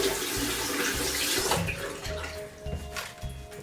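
Hands being washed under a running tap: a steady, close wash of flowing water with faint rhythmic knocking underneath and no voices.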